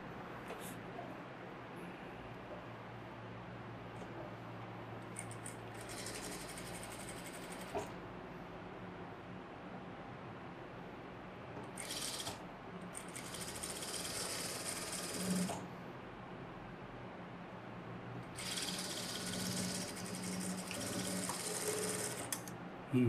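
A sewing machine stitches a blouse shoulder seam in short, quiet bursts of rapid whirring between pauses, with a low background hum and a voice speaking at times.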